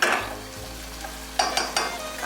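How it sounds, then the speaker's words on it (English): Marinated lamb chops with cilantro and lime sizzle steadily in a pan over medium heat, with a few clinks of a utensil stirring and scraping near the end. "So we're cooking on like medium, so that we can really get a nice sizzle there, a nice saute."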